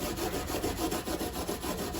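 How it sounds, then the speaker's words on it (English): A brass bristle brush scrubs the frets of a Martin DX1AE acoustic guitar with steady rapid back-and-forth scratching strokes, close and continuous, no talking. "my secret weapon. Brass bristle brush."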